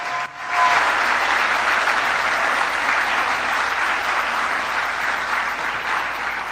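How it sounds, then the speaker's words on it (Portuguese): An audience at a Trump press event bursts into sustained, enthusiastic applause, a dense wash of clapping that holds steady and loud throughout. "E o público aplaude efusivamente."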